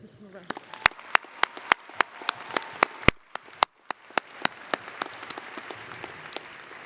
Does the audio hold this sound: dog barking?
no